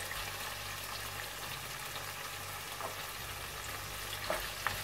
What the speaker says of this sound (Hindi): इसको 3-4 मिनट अच्छी तरह से भून लेंगे दही के साथ।